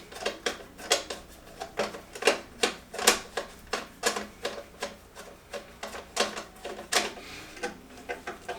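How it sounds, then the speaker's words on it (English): A magnetic-tip screwdriver drives screws into a spin bike during assembly, producing a series of sharp metallic ratcheting clicks in irregular bursts, fairly close and moderately loud, with no voices. "My screwdriver has a magnetic tip, which makes it a whole lot easier to hold these screws when you're doing it from the bottom."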